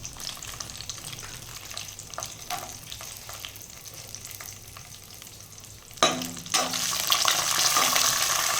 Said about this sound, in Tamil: நெய்யில் நல்லா முந்திரி திராட்சையும், முந்திரி உங்களுக்கு எவ்வளோ வேணுமோ போட்டுக்கோங்க